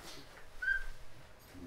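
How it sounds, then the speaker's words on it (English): A simple 3D-printed whistle is blown once, a short faint high tone rising out of a quiet room hiss and fading quickly. "So that's the simple whistle."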